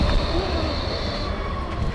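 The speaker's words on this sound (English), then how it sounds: "I almost got hit by the tram." A Berlin street tram passes very close, a loud, steady low rumble of wheels on rails with a faint high metallic whine riding on top, no voices heard.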